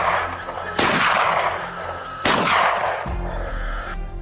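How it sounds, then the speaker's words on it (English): Two sharp, loud gunshots ring out about a second and a half apart during a wild boar hunt in a hillside cornfield, each followed by a decaying echo and then a low rumble. "In a sharp, decisive moment, the shot rang out instantly."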